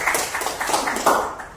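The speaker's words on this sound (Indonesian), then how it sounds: "Tepuk tangan untuk Bu Heni" A small group claps for Bu Heni at a school gathering, a short burst of scattered, uneven hand claps, fairly close and fading out after under two seconds.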